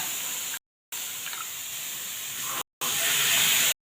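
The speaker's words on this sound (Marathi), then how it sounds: "हा गरम झालेला आहे तवा इकडं तव्यावरती हे दाणे असे भाजून घेणार आहे" Green peas hiss and sizzle as they roast on a hot griddle, a loud steady hiss broken by brief gaps of silence.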